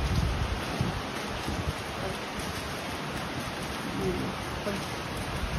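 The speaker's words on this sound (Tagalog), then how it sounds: "Lakas ng ulan." Steady, dense hiss of heavy rain from Typhoon Kristine pours without pause, broad and constant, with faint gusty rumble underneath.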